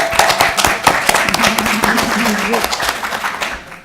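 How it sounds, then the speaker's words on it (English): Audience applause for a timekeeper at a candidates' night event, steady clapping from many hands filling the room, with some voices under it. "please give her a round of applause"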